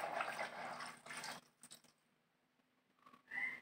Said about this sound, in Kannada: ಸ್ವಲ್ಪ ಕ್ಲೀನ್ ಆಗಿರಲಿ ಅಂತ ತೊಳೆದುಕೊಳ್ಳುವುದು ನೀರಿನಿಂದ